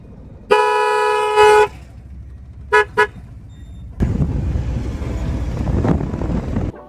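Car horns on a congested road honk in bursts, one long blast and two short toots, over a steady rumble of traffic in an area with underpass and flyover construction, with wind noise growing louder later.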